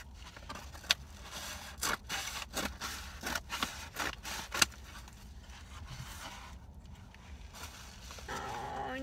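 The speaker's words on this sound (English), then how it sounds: "Got my handy dandy scissors." Scissors cutting open a package: rapid, repeated rasping snips and scrapes, close by, in an irregular series of short bursts, then a quieter stretch with rustling at the end.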